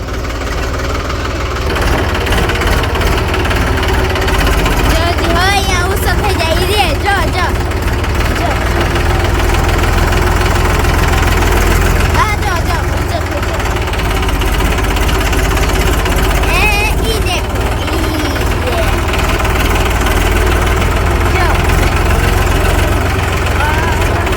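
A tractor engine idles with a steady low rumbling chug, close by and loud throughout, with faint voices now and then.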